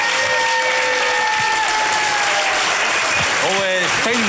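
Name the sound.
standing ovation applause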